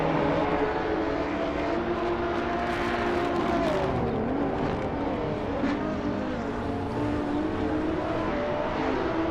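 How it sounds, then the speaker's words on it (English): Race cars accelerating in a racing video game, a loud continuous engine roar with rising and falling pitch sweeps as cars speed past, with no talking. "The race kicks off with Wow CB taking the initial lead, followed closely by Larache in second place"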